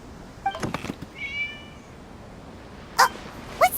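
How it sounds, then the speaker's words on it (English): Cat meows in the video game Genshin Impact: a short harmonic meow in the middle, then two brief sharp mews near the end over a quiet game-ambience backdrop. "It was just a cat."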